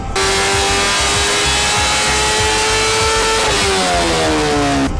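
A motorcycle fitted with an aftermarket exhaust roars at full throttle on a dyno, engine pitch climbing steadily and then dropping back, loud and close throughout with no talk.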